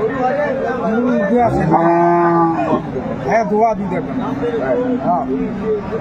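Cows moo loudly nearby, one long drawn-out low call standing out, amid the busy chatter of people at a crowded cattle market, Aftabganj Haat, Dinajpur.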